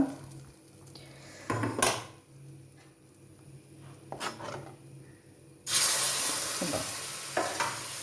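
Onions frying and being stirred in a very hot clay pan for a Kerala-style cucumber pulissery, with a few scraping stirs, then a loud burst of sizzling near the end.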